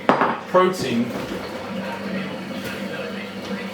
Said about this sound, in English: Apologies if you can hear my sink in the background.